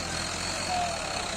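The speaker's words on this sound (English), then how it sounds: "This Mahindra is lugging 33 tons worth of potatoes" Mahindra tractor engine lugging 33 tons of potatoes in 55-kilogram bags, a steady low, laboring drone with a constant broadband rumble, close and uninterrupted.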